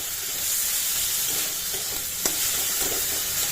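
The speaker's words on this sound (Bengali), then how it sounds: "এবার ভালো মতো সব কিছু আমি অ্যাড করে মিশিয়ে নেব।" Soft stirring in a pan of simmering lentil dal with tomato and a little turmeric, a low steady hiss with faint scrapes and one sharp tap of the spoon against the pan.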